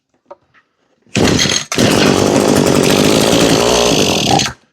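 An Echo string trimmer engine with the choke on, being diagnosed for running issues, fires up after a couple of faint clicks, bogs for a split second, then roars loud and steady for about three seconds before cutting out.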